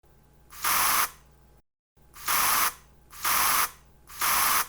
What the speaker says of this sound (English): this is the sound of spray on deodorant